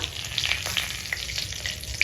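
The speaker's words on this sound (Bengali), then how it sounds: "এবার এই তেলেই আমি রান্নাটা করব তো প্রথমে দিলাম একটা তেজপাতা" A bay leaf fries in hot oil left over from frying prawns, a close, moderate crackling sizzle with small pops and faint stirring.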